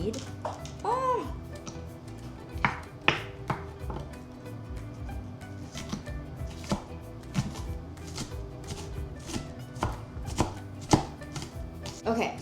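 Knife chopping half an onion on a board in a home kitchen, sharp irregular taps repeating close by throughout, with brief voices in the background.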